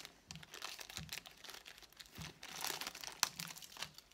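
A plastic AliExpress parcel is torn open, giving steady crinkling and rustling of the wrapping. The handling is close but fairly quiet, broken by a few sharper crackles, with no voices.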